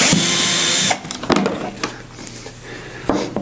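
A power tool drives out factory screws from the lid of a Progressive Industries unit, a loud whirring burst up close that cuts off, followed by clicks and handling knocks.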